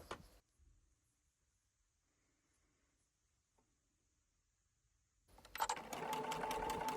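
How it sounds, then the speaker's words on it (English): After a long near-silent pause broken only by faint handling clicks, a sewing machine with an invisible zip foot starts up and stitches a zip down, its rapid, even whir building quickly and running loud and close to the end. "Now change the foot on your sewing machine to your invisible zip foot."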